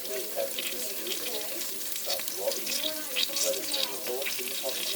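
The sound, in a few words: jalapeno poppers sizzling while broiling in air fryer microwave oven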